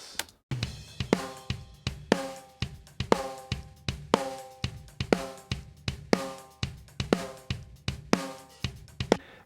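Rock drum bus run through parallel compression, repeating kick and snare pattern with ringing tones and washy cymbals, evenly spaced hits, dense and sustained, played alone without talking.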